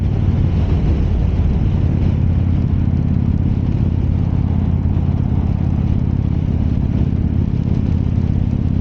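A car cruising on the freeway in top gear, its engine giving a steady, loud, continuous rumble with road noise and no talking.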